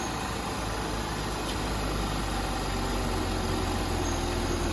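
A 2007 Audi A4 Cabriolet Quattro with a six-cylinder engine idles steadily up close during an oil change, a constant low hum with a faint high whine over it and no voices.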